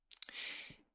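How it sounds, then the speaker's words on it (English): A few quick clicks from the keys of a hammer action keyboard being played, close and faint, followed by a brief soft thud as a key lands, all within under a second. "I don't know how much you can hear the keys when I play"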